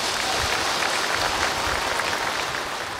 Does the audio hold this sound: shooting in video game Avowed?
no